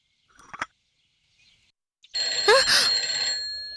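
A phone rings at home in a TV drama scene: after a few faint clicks and near silence, a loud electronic ringtone bursts in with sweeping warbling tones and sustains to the end.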